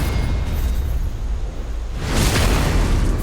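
Explosive bursts from an enemy dealing heavy damage in the video game Elden Ring: a dense rumbling din that swells into a louder, brighter blast about two-thirds through, with no talking.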